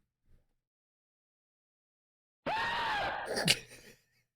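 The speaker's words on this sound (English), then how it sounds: "Like that's a stock scream." A short stock scream sound effect from an old screamer prank video, silence and a faint thump first, then a sudden loud shrill cry of about a second and a half that rises, peaks and fades, with no talking.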